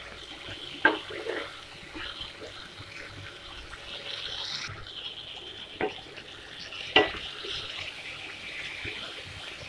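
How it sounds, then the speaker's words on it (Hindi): Pointed gourd and potatoes fry in a pan and are stirred, giving a quiet, continuous sizzle broken by occasional scraping knocks of the spoon against the pan. "वही परवल आलू को ऐड कर लिया और जस्ट इसको भूनूंगी"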